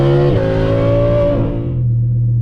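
A loud Audi R8 V10 with a Valvetronic F1 exhaust roars and then drops to a deep, steady idle rumble, close and with no one speaking.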